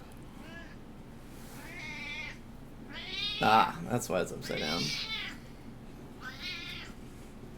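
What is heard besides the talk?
cat meowing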